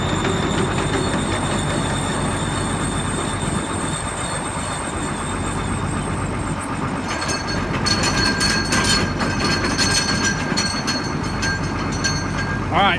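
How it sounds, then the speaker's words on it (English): A 530 MoCo impeller mower conditioner, driven from a 1070 tractor's PTO, runs with a continuous loud mechanical roar, rattling and clicking that grows busier toward the end. "530 Moco impeller conditioner, you're going to hear a rattle when it stops."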